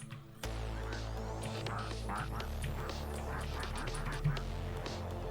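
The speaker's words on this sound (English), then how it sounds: "It sounds like it's doing a few different duck sounds at the same time" Several overlapping duck quacks ring out as sound effects in a desktop roller coaster game, heard over a steady humming backdrop.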